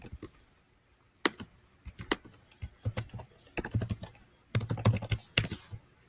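Typing on a computer keyboard, with short bursts of close, crisp key clicks separated by brief pauses. The sound is quiet and heard alone.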